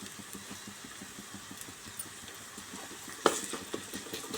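Curry being stirred in a pan as turmeric and ginger are added, a soft steady sizzle with rhythmic scraping strokes of the spoon and a few sharper clinks toward the end, close and fairly quiet.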